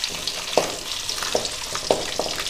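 Garlic and ginger fry in hot oil for a mint chutney, giving a steady bright sizzle with a few soft stirring knocks scattered through it, no voices.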